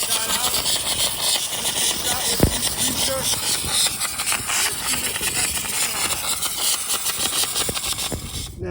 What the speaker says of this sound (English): that button there offers steam